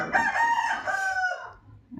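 A rooster crows once, a long drawn-out cock-a-doodle-doo lasting nearly two seconds, close and clear with no talking over it.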